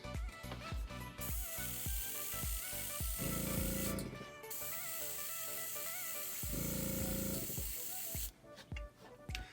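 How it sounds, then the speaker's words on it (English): Repeated bursts of aerosol spray paint hissing onto fishing lure eyes, a few short sprays then long steady blasts, close and loud with rattling clicks between them. "just like spraying baits, you're gonna wanna spray a coat, dry it, spray another coat"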